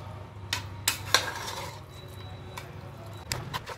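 Marinated chicken being added and mixed into biryani masala in a pressure cooker: a few sharp metal clinks of a spoon against the pot over a low background hum, fairly close.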